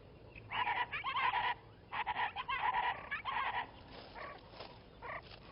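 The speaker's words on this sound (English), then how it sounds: "the chachalaca, a noisy, gregarious bird common at the Santa Ana Wildlife Refuge" Chachalacas, noisy gregarious birds of the Santa Ana Wildlife Refuge brush country in Texas, call in loud raucous rhythmic bursts, several overlapping phrases that fade to fainter calls toward the end.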